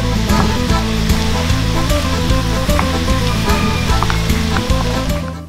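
Steady frying sizzle of pasta with shrimp in sauce in a pan, with crackles and pops throughout and a faint scrape or stir now and then.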